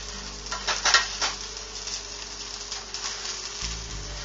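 Dry fideo pasta stirred and toasted in a pot, giving a soft, steady sizzle and light scraping patter with a few louder clinks early on, close and moderately quiet, with no talking.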